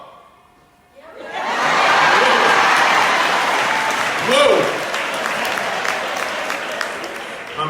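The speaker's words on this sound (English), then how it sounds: "Clap. Let us hear you. Let us hear y'all." A church audience in an overflow room bursts into loud sustained applause that swells and then gradually thins, with a brief exclamation rising over the clapping.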